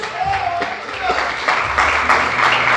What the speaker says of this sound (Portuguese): Você pode aplaudir esse Jesus maravilhoso?